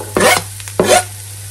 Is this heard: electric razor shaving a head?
no